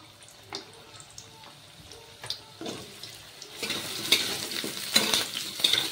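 Potato pieces fry in hot oil in a wok, a soft sizzle that grows louder and busier after a few seconds, with intermittent stirring clatter and splashy bursts, heard close with no talking.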